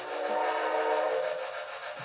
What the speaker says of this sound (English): He's over here playing with the train sound.